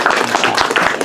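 Audience clapping after a talk on AI and law, a brief, dense burst of applause from a crowd, heard at moderate loudness.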